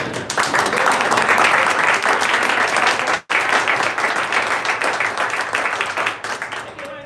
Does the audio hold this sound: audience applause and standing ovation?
yes